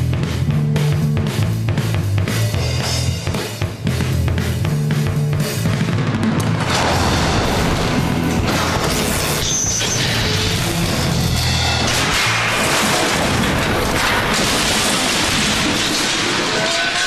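Loud, dense crashing and booming stage pyrotechnics fill the whole clip, a continuous barrage of explosive cracks and rumbles on a TV drama set, with no talk.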